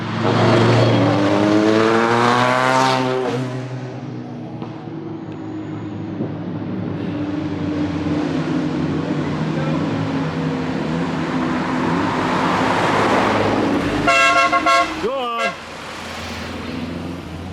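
A car's engine roars loudly and steadily during a parade at a 24-hour race at Spa, with an RS500 passing nearby and a brief horn-like tone near the end; voices chat over it early on.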